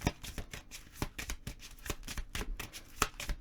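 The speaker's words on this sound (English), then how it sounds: "while I'm shuffling your cards" A deck of tarot cards is shuffled up close in a steady run of quick riffling flutters and soft slaps, repeating at a brisk, even rhythm with no talking.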